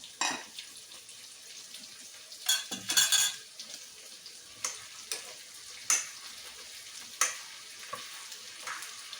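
Brinjal mezhukkupuratti stirred in a heavy pan with a spoon, giving soft sizzling frying under a few sharp scraping clinks of utensil on metal spaced across the stretch, fairly quiet and close, no talk.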